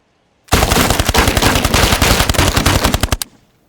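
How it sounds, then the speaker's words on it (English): Sustained automatic gunfire rattles loud and close, a rapid burst of shots lasting nearly three seconds before cutting off abruptly, with no voices. "Where was the gunfire coming from?"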